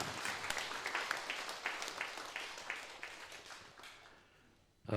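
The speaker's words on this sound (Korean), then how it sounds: "우리 하나님께 최고의 박수 한번 드리겠습니다." A church congregation applauding during a Sunday service, a dense spread of many hands clapping at moderate distance that thins and fades out toward the end.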